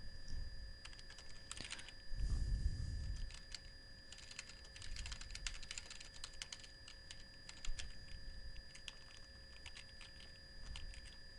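Someone types steadily on a computer keyboard, the keys clicking quietly and close by, with a few louder bumps and a faint steady hum behind them.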